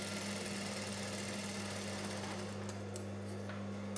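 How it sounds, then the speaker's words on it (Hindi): A sewing machine runs steadily while stitching a katori blouse, giving a continuous close mechanical hum with a fast regular needle rhythm and a few faint clicks near the end. "अभी यहाँ पे और डबल सिलाई मार लेती हूँ"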